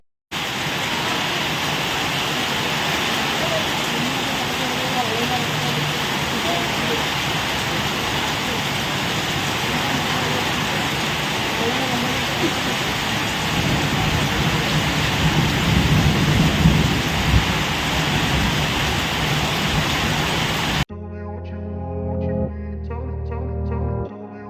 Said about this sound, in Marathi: आज संध्याकाळी मुसळधार पावसाने हजेरी